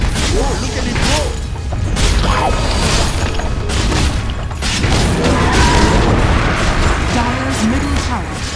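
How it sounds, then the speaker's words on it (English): Dota 2 match with a tower under siege and collapsing: continuous dense battle noise of booms, bursts and clashing effects, loud and busy throughout, with a game announcer voice and a speaking commentator layered over it. "Dire's middle tower has fallen."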